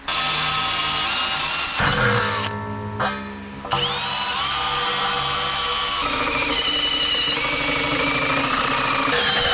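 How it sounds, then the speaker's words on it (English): A power drill bores holes for mounting a car's gas tank, a steady high whine running almost throughout with a brief pause midway, loud and close, no talk. "So I'll have to probably drill my holes"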